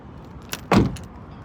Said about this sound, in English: Opening up the driver's side door, we'll find our power locks, windows, and mirrors.